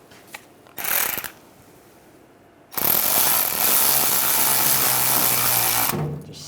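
A power driver tightens a hose clamp on a 1999–2006 Chevrolet Silverado fuel filler neck, with a short burst first, then a sustained whirring run of about three seconds, close and loud, ending abruptly.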